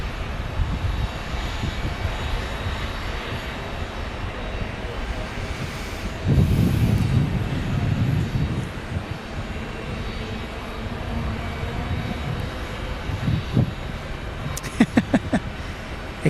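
Jet airliner at Phoenix Sky Harbor airport, a steady broadband engine roar from a distance that swells briefly mid-way, with a few sharp clicks near the end and wind in the background.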